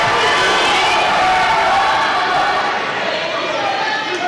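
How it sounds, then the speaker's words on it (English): A basketball crowd at an Anderson University game roars and chants together, loud and sustained, then thins toward the end with voices mixed in. "from the Anderson crowd, you hear the ball don't lie"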